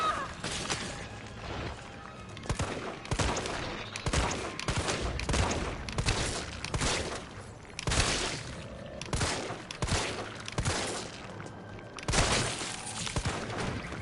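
Rapid gunfire from Resident Evil 3 gameplay, dense bursts of shots rattling almost continuously with brief gaps, loud and up close.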